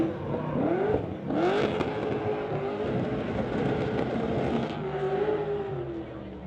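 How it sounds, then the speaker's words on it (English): Drift cars roar past on a track at a motorsport event, engines revving and whining in rising pitch sweeps as one car passes and then another pair follows in tandem, loud and close amid constant crowd noise. "That's the single drift followed up by the tandem."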